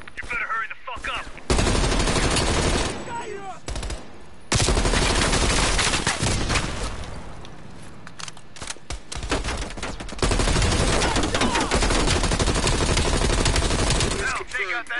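Heavy machine-gun fire in a Call of Duty battle, long loud rattling bursts separated by short pauses, close and harsh, with voices talking in between.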